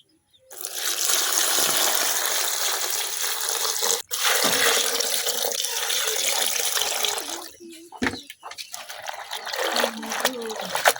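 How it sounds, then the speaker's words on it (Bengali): Spinach being washed by hand in a bucket of water, with steady splashing and sloshing that stops briefly around the middle and near the end, then returns in shorter, rougher bursts; no speech is heard. "এখন আমি শাকগুলো খুব সুন্দরভাবে ধুয়ে নেব ভালোভাবে, যেন কোনো বালু না থাকে শাকের মধ্যে"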